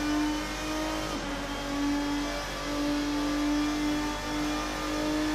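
A race car engine in Assetto Corsa holds a steady high-pitched drone, rising and falling gently through gear shifts, loud and continuous with no talk.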